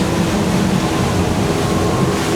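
A Navan S30 boat runs at full power through waves, loud continuous engine roar mixed with rushing water and wind noise, steady and close, with no talking.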